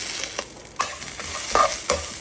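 A sprig of curry leaves frying in hot oil for Chettinad chicken curry, a close crackling sizzle with several sharp spatters and stirring scrapes, no voices.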